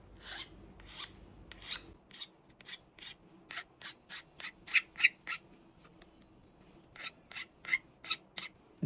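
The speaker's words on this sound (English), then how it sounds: "I'll sharpen my rakers with this file here" A hand file sharpens the rakers on a Husqvarna chainsaw chain, giving sharp rasping strokes in an uneven series, close up and alone with no speech.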